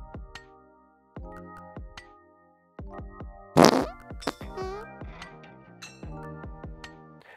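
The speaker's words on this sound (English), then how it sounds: "Farts have existed for millions of years, and it's only now that you can actually pay to license farts in music" Comic fart sound effects play in a quick sequence of short plucked, twangy blasts with one long sputtering raspberry near the middle, fairly loud and with no talking.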